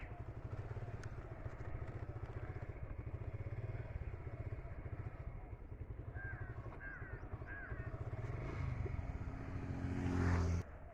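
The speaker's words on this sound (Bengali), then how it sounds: "গাড়িটা স্টার্ট দিয়ে দিয়েছি।" A motor vehicle's engine idles and then drives along a badly broken rural road, with a steady low rumble and rattling throughout. Crows caw faintly in the background midway, and the engine swells louder near the end.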